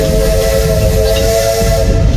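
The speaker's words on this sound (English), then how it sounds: "Train time!" A steam-style train ride at Cedar Point amusement park lets out a loud, sustained whistle with a hissing tone. Close rumble sits underneath throughout.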